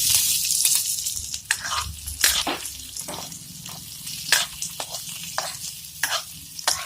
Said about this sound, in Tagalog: Heat oil in a cooking pan. Saute garlic and onion.